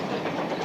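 A train runs on rails, a brief steady rumbling roll heard close and fairly loud, with no voices.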